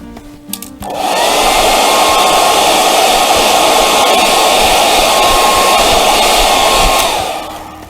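A hair dryer switches on and blows steadily, loud and close, drying paint on a country-style painted craft piece, a continuous broadband whoosh lasting several seconds before it starts to wind down, with no voices.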